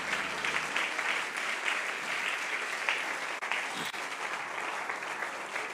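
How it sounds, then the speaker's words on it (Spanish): A church congregation applauds steadily throughout, a dense, sustained wash of many hands clapping at a constant level, with no distinct pauses. "Dele ese aplauso al Señor."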